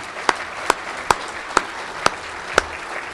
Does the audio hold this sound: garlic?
no